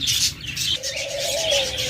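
A pair of green Fischer's lovebirds chirps close by, giving a quick run of bright twitters and then a drawn-out whistling call.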